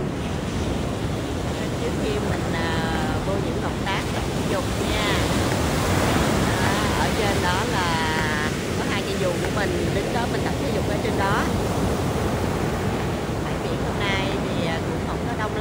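Ocean surf rolling onto a beach on a Saturday morning, a steady broad wash of waves mixed with wind buffeting the microphone, with a voice talking over it throughout.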